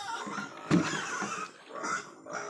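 Pig grunts and snuffling, close by and fairly loud, with a sharper squeal-like burst early on and uneven grunting throughout.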